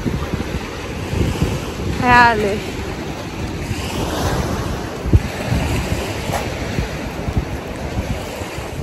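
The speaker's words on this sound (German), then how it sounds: "Ihr könnt mich wahrscheinlich gar nicht hören, weil es so laut windet." Strong wind buffets the microphone on a Sylt beach while ocean surf rolls steadily underneath, loud and continuous; a voice speaks briefly partway through.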